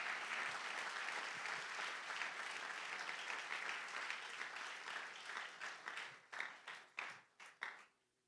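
A church congregation at an evangelistic campaign bursts into dense, loud applause that holds steady, then thins into a few scattered final claps before stopping.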